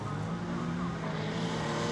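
Retro rallycross race car driving hard during a round of the British Rallycross Championship, engine roaring loud and steady throughout with no letup, close and dense.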